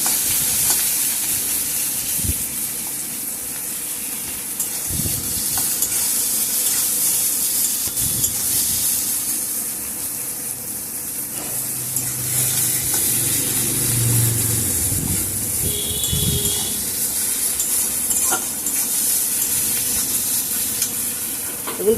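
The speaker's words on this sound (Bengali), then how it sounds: "পেঁয়াজটা ভালোভাবে একটু নেড়ে চেড়ে একটু লাল লাল করে ভালো করে ভেজে নিয়েছি আমি" Onions with salt frying in a wok: a steady, bright sizzle fills the whole stretch, with occasional scrapes and knocks of a spatula stirring, close and without talk.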